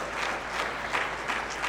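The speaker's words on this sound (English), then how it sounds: "y'all give her a round of applause" Audience applause at a community summit, a steady wash of clapping hands at moderate level for a short stretch, with no voices rising above it.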